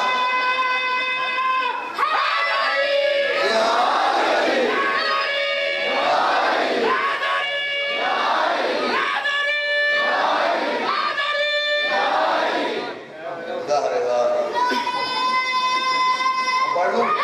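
Children at a Muharram majlis in an imambargah in Lahore chant religious slogans in loud, rhythmic unison, with repeated call-and-response bursts roaring steadily for most of the stretch.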